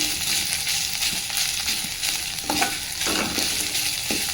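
Rice fries in hot ghee for a village-style biranji rice dish, a continuous crackling sizzle with scraping stirs throughout and no voices.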